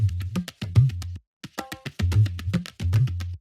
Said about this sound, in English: this is the other dholak tabla loop.